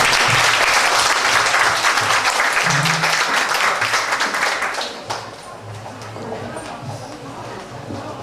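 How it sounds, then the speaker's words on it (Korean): An audience claps steadily to welcome a speaker at a school library teachers' forum, with dense applause that fades and thins toward the end. "네, 박수로 환영해 주시면 감사하겠습니다."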